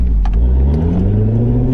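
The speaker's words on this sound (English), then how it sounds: "That AWE exhaust just sounds crazy in this thing." A Chevrolet C7 Corvette Grand Sport with an AWE exhaust and no-lift-shift manual bangs through the gears, its loud, close engine note dipping at the shift then rising again in a rasping, rising drone.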